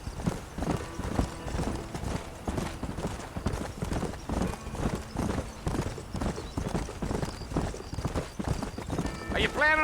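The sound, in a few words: horse galloping, from video game Red Dead Redemption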